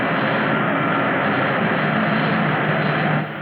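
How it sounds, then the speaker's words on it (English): Film sound effect of a spaceship engine on boost during a climb: a loud, continuous roaring rush, like a jet or rocket, holding steady for a few seconds and dipping slightly at the end, with no voices. "Give me 3G boost, Winky."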